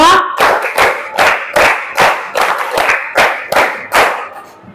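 A group of children claps in unison, five quick bursts of claps in a steady rhythm, loud and close.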